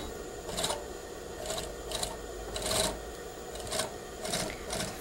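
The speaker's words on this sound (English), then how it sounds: "We will stitch with the upper collar up so you can see the stitching where the collar and the facing were attached." A sewing machine with a cording foot stitching bias trim along a collar and facing, in several short bursts of rapid whirring separated by brief pauses, close and fairly quiet with no voices.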